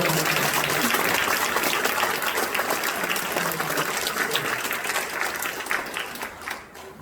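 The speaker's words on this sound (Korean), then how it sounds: "자, 우리 축복의 박수 한번 주시기" Congregation applauding at an outdoor church service in Seoul, a dense, loud wash of clapping that slowly thins and fades toward the end.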